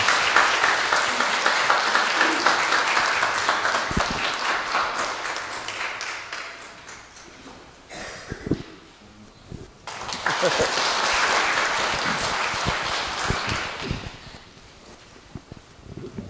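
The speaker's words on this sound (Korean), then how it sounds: "힘찬 환영의 박수 부탁드립니다" Audience applause welcomes a Korean couple at a marriage-mentoring lecture. Broad clapping fills the room for several seconds, dips briefly, then swells again before fading, with a few voices and shuffling underneath.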